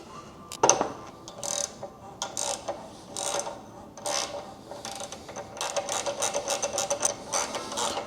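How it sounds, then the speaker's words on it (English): A ratchet wrench loosens a 12 mm bolt on a Ducati Panigale V2 during a rear brake light switch install: bursts of close, crisp clicking come in uneven groups, ending in a steady, rapid run of ratchet clicks. "So we're gonna use 12 millimeter here and loosen this guy up."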